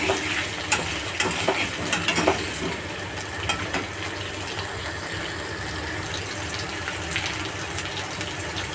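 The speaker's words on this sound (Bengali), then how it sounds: "আলু দিলাম, ভালো করে ভেজে নেব। আলু ভেজে নিচ্ছি।" Potatoes with five-spice seeds fry in a pan, giving a continuous close sizzle with sharp crackles and spits clustered early, then settling into an even hiss.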